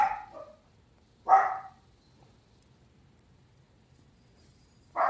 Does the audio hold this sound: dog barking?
yes